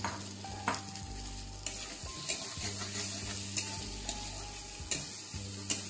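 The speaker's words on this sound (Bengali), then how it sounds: "এবার দিয়ে দিচ্ছি ভেজে রাখা আলুগুলো দিয়ে আরেকটু কষিয়ে নেব মশলাটাকে" Fried potatoes going back into a pan of spice masala for a katla fish curry and being stirred, soft sizzling under repeated scraping strokes of a spoon against the pan, close and steady with a low hum beneath.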